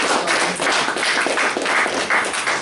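A dense burst of applause at an office bearers installation ceremony, with many hands clapping continuously and evenly throughout.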